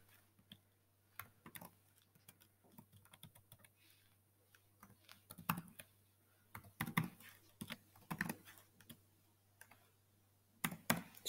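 Random numbers being keyed in on a computer keyboard: quiet, irregular bursts of clicky keystrokes with short pauses between them, growing busier toward the end, with no voices.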